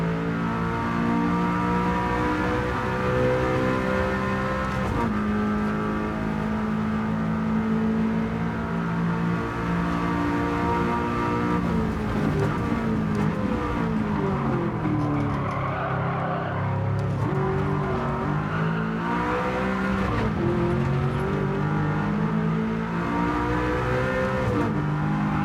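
Race car engine in Gran Turismo 7 accelerating hard out of a corner, a loud continuous roar that climbs and shifts in pitch through gear changes, with faint tire squeal, no talk.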